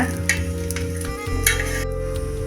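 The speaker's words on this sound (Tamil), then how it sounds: "சுற்றிரும் எண்ணெய் ஊற்றிக்கலாம் அப்போ தான் வேகும் இதை ஒரு பக்கம் நல்லா வேக வச்சுக்கோங்க" Batter mixed with roasted brinjal frying in oil on a pan for a breakfast dish, with a steady close sizzle and light scraping beneath a constant electrical hum.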